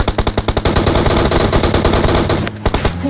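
Rapid automatic gunfire in the mobile battle royale game PUBG Mobile, a loud fast burst of shots followed by more bursts and a few scattered single shots near the end, with no talk.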